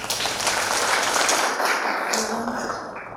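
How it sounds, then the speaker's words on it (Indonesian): An audience applauds at a Kediri education office discussion forum on inclusive schools for special-needs aide teachers, with steady, dense clapping that tapers off toward the end. "Tepuk tangan dulu."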